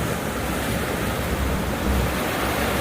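Strong sea waves surge and crash continuously at a Batangas beach resort, a loud, dense roar of surf mixed with gusting wind noise on the microphone throughout, with no voices.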